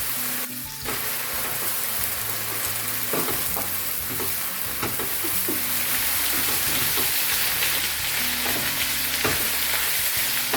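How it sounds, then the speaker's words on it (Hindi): Chicken pieces fry lightly in oil in a wok, a loud continuous sizzle near the mic with scattered crackles and occasional scraping as the meat is stirred. "ये हमारा चिकन है, इसको थोड़ा सा हम हल्का सा फ्राई करेंगे।"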